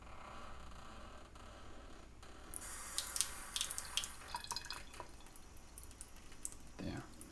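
A kitchen sink tap is turned on to a thin trickle, giving a soft splashing and dripping hiss with small clinks, fairly close and quiet.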